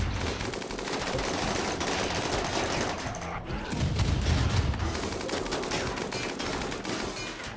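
Gunfire during a battle in the video game RimWorld Odyssey, a steady barrage of rapid shots and rattling bursts mixed with heavy rumbling impacts, continuous and fairly loud throughout.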